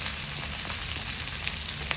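Sliced squid and onions sauté in a hot pan, giving a steady, close, even sizzle and crackle that runs without a break and with no voices.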